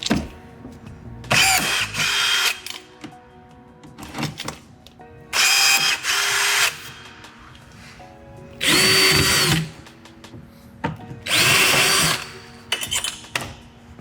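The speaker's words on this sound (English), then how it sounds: "Drill the hole." Four bursts of a power drill boring rivet holes in a composite C8 Corvette side rocker, each a loud whining run of about a second or two, separated by quiet handling noises and clicks.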